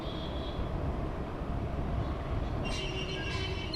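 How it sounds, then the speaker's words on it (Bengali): A metro train rumbles past on an overhead track near Rabindra Sarobar station, a steady loud roar with a brief high squeal of wheels toward the end, no voices present. "তোমরা ওই সামনে দিয়ে, ওপর দিয়ে যে ট্রেনটা যাচ্ছে"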